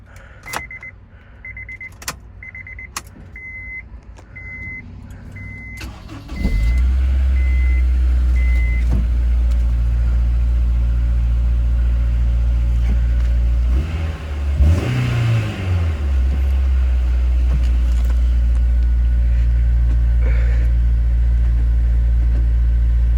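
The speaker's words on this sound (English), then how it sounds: "press this bright red start button over here to start the engine" A 2007 Honda S2000 engine cranks and catches after a few quiet clicks and chimes, then settles into a loud, steady idle with a brief blip of revs midway, with no talking.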